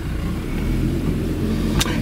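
A Renault Alliance car pulls away, its low engine rumble steady and close with a mild rise in revs, topped by a brief sharp click or squeak near the end.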